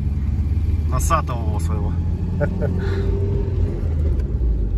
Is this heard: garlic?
no